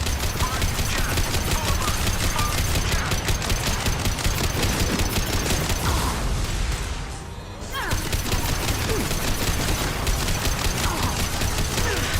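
Dense, continuous rapid-fire gunfire from the Mass Effect 2 video game, loud and unbroken, with a brief dip in intensity midway before the barrage resumes.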